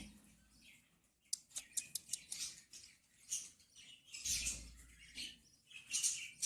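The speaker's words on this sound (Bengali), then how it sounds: "ঘরের পাখিটা আমার একদম।" Quiet, intermittent chirps and short tweets come from a pet bird indoors, spaced irregularly with a few soft rustles between the calls.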